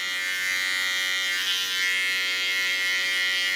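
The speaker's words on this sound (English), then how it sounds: "Then clean the underlines with a small clipper." A small electric hair clipper buzzes steadily and close up while trimming a neckline, its high whine holding an even pitch with slight variations as it moves.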